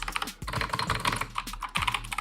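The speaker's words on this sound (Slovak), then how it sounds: "Následne tu máme takúto klávesnicu Jenky." Rapid clattering keystrokes on a compact Jenky computer keyboard, typed in quick uneven bursts close up with brief pauses between runs.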